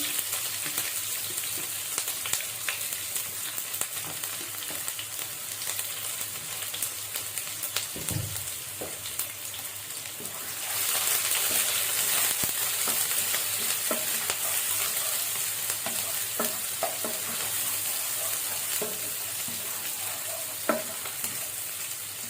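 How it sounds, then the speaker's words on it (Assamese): Onions fry in a pan with a constant crackling sizzle, punctuated by occasional scrapes and taps of stirring; the sizzle grows brighter and louder partway through, close-up with no voices. "পিঁয়াজখিনি ভজা হৈ গৈছে।"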